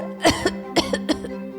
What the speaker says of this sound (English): Mayavati took one sip and started coughing.